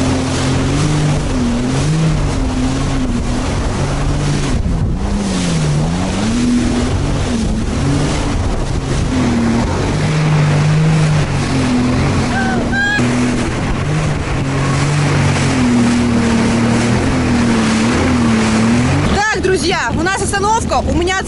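Jet ski engines drone steadily on open sea during an extreme tour, with wind buffeting the microphone and waves slapping; a close, continuous engine roar rises and falls as the craft bounces, with people talking over it.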